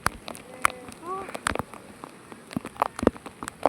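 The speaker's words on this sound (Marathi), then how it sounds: "खतरनाक पाऊस आलाय." Heavy rain at Diveagar and Shrivardhan beach, heard as scattered close drop taps and spatters on surfaces, with a few brief voice sounds among them.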